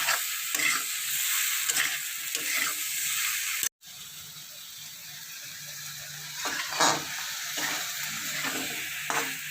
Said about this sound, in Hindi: ये अब हो गया, हल्का सा भून देंगे हम शिमला मिर्च को। उसके बाद आलू डाल देंगे।